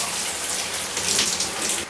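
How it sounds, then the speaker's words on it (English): Tap water runs in a steady broadband hiss over a solid conditioner bar held under the faucet, close and continuous for about two seconds with no voice. "run it under the water"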